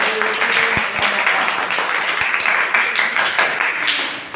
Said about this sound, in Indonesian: oke, tepat sekali tepuk tangan